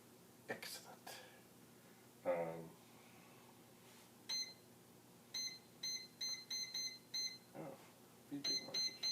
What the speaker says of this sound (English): Beeping noises.